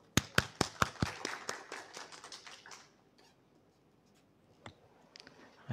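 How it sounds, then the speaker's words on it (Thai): A small group claps sharply to welcome a university vice-rector for student affairs at Kalasin University's online folk-song band competition final: quick, close, irregular claps for about three seconds, then near silence with a few stray claps. "เสียงปรบมือต้อนรับท่านด้วยค่ะ"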